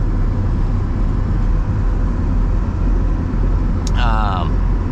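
A 1979 Mercedes 300 diesel coupe, non-turbo, drives down the road with a loud, steady low engine drone heard from inside, and a short bright chirp rises near the end.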